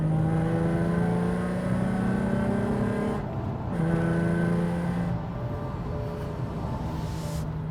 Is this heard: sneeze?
no